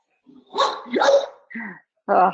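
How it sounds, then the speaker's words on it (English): Dogs bark indoors in a few short, sharp yips and barks, close and loud, separated by brief silences, with no talking over them. "Sorry, my dogs are interrupting."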